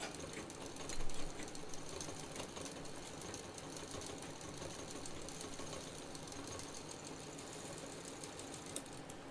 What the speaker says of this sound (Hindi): इसको हमें यहाँ पे कई बार मशीन चला देनी है।